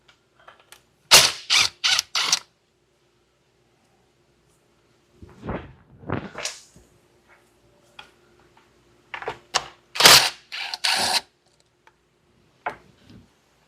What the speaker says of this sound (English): now we're gonna remove our remaining 2 bolts